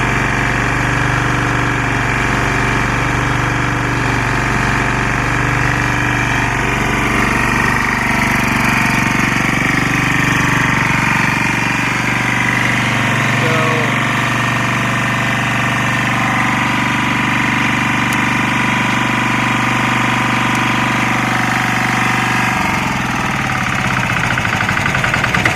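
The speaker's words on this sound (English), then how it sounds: "You can hear the engine tone change a little bit as the light flashes." A Lombardini 6LD260 diesel engine, unused for ten years, runs steadily after a cold start with a loud, continuous knocking idle that shifts slightly in tone near the end.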